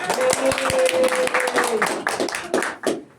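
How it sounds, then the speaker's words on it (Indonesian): Classroom of students clapping hands during a micro-teaching lesson, a burst of quick, close claps with overlapping voices and a short sustained tone early on. "Beri tepuk tangan."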